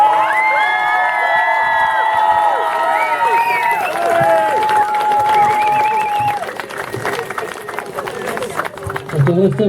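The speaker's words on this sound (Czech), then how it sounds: "Tak velký potlesk!" A large crowd at a Majáles student festival show cheers, whoops and applauds loudly, with high shouting voices over continuous clapping that settles slightly toward the end.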